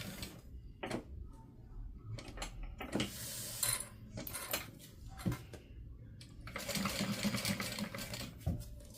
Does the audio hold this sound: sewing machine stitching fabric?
yes